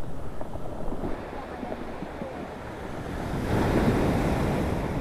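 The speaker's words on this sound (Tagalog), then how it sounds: "Kalalaki nung alon dito." Large ocean waves breaking on a shore beside a rural road, a steady rushing roar of surf mixed with gusty wind buffeting the microphone, swelling louder in the last couple of seconds.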